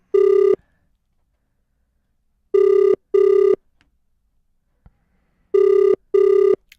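A WhatsApp call ringing tone plays alone in two-beep bursts, a clear electronic ring repeating with long silent gaps between pairs.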